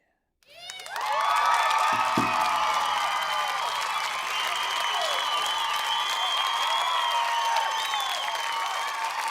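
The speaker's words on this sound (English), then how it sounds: "I think we deserve a loud applause" Applause breaks out after a brief silence and holds steady, mixed with cheers and whoops from a crowd, loud and sustained to the end.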